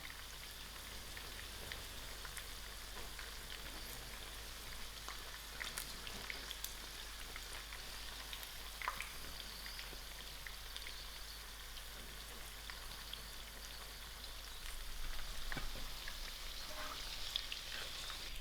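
Fish pieces for fish pickle fry in hot oil, giving a soft, steady crackling sizzle with scattered pops, growing a little louder near the end.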